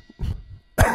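A person coughs twice during a guitar lesson, first a softer, muffled cough and then a sharper, louder one close to the microphone, with no speech.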